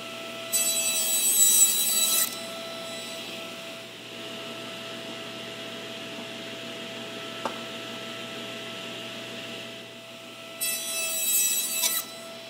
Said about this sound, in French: On a entendu que j'ai enlevé très peu de matière à la fin